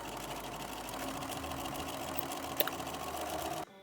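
A sewing machine runs steadily, stitching close along the edges of folded fabric in one continuous whir that stops abruptly near the end.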